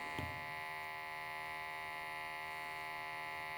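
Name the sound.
gas calibration pump running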